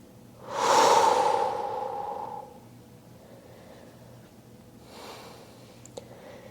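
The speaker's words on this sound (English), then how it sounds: "exhale all the breath out" A long, audible exhale during a yoga forward fold, a soft breathy rush lasting about two seconds, followed later by a quieter breath.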